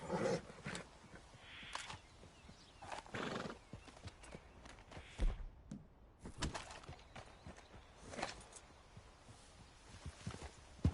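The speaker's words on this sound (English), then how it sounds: "that's a nice-looking horse you have there" In Red Dead Redemption 2, horse hooves clip-clop in an uneven walking rhythm, with a loud neigh partway through, plus scattered thumps and rustling nearby.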